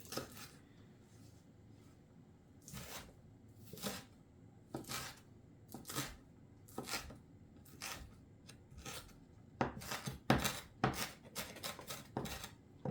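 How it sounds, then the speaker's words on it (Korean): A knife chops a boiled egg finely on a board: a steady series of sharp, close taps in an irregular rhythm that grows quicker and louder toward the end, with faint kitchen background and no talk. "알을 잘게 썰어가지고"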